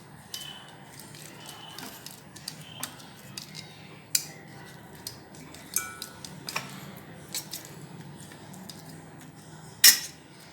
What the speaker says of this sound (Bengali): প্রথমে গরম বলে হাতায় করে মেখে নিচ্ছি তারপরে হাত দিয়ে মেখে নেব ভালো করে